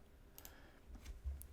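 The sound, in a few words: computer mouse clicking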